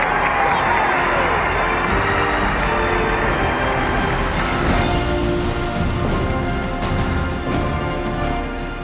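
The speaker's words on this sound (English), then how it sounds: "Listen to the crowd." A huge crowd celebrating VE Day with the King and Queen, a dense continuous roar of cheering thousands, loud and distant-sounding on old newsreel audio.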